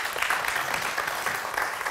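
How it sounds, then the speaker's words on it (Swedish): A conference audience claps after a presentation on care-sector safety work, an even, continuous patter of hands filling the room with no speech over it. "Tack för det, en applåd."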